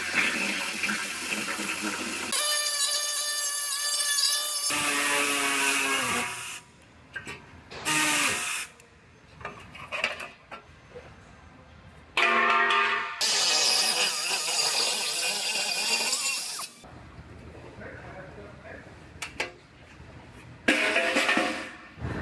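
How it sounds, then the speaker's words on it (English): A bumper bar being cut off a Corvette: loud, harsh grinding and cutting bursts that start and stop repeatedly, with whining tonal stretches and short quiet pauses between them. "I'm going to go ahead and get this bumper bar cut off."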